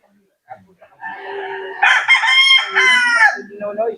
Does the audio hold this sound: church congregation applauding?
no